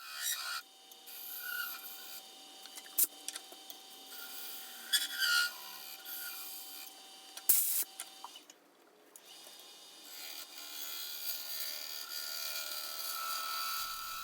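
Light, steady scraping cuts on a wood lathe clean up the bottom of a spalted apple and resin lidded box held in a friction chuck, with a soft rasping hum and a few sharp ticks, moderately close.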